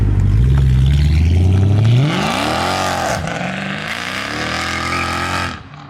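Mercedes C63 AMG with an Armytrix exhaust revving hard, a loud, deep, close engine roar rising and falling through several throttle sweeps before cutting off.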